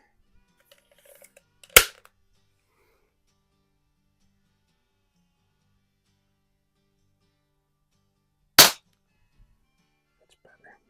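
A Gamo PR-45 air pistol fires at a target in a garage, two sharp isolated cracks about seven seconds apart, loud and close, with quiet between and faint rustling near the first shot.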